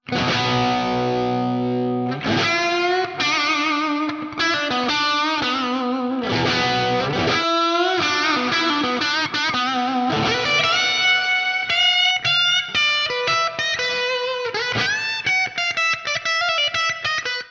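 An electric guitar plays through a free VST amp plugin with noise gate and reverb, giving a loud, distorted, sustained tone over a run of chords and single-note lines, with brief gated cutoffs between phrases.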